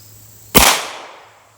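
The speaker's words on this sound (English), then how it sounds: "I'm gonna shoot over that picnic table into the target." A single loud gunshot from a Navy Arms firearm fired outdoors at a range target, a sharp close blast followed by a long rolling decay of echo lasting about a second.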